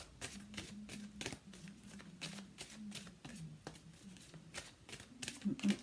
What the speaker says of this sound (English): I don't know why I'm still shuffling them.